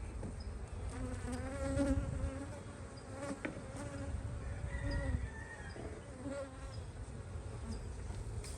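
Honey bees buzzing around open hive frames of honey and brood, a dense, continuous hum with wavering tones, close and moderately quiet, with no talk.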